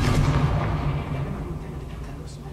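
A Confringo fire spell from the video game Hogwarts Legacy bursts with a heavy, booming blast, loud at the start and rumbling away over a couple of seconds.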